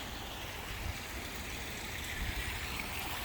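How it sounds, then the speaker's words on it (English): Water flowing steadily in a garden pond with a pump, a soft continuous wash of trickling and splashing, even and unbroken throughout. "I love the sound of the water"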